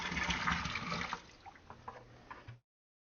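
Water pours steadily into a residential sump pump pit to prime it, a continuous splashing rush that is loudest at first, then thins to scattered trickles and drips before stopping abruptly.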